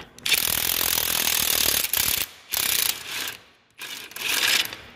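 A ratchet backs a bolt out of a nut on a corn head, sounding as loud, close, rapid clicking strokes in several bursts separated by short pauses.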